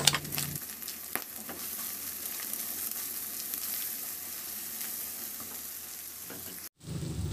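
Ground pork stir-fries in a pan, a steady close sizzle with a few spatula knocks, cutting out briefly near the end.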